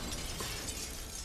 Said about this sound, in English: that was just an explosion out of nowhere.